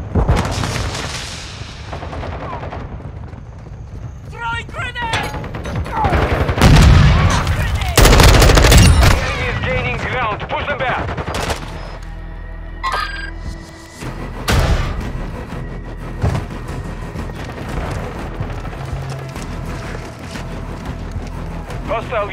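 Gunfire and explosions in Call of Duty MW2 team deathmatch on a night map: rapid machine-gun bursts, single shots and booming blasts come in clusters, with voices calling out over the loud, chaotic battle.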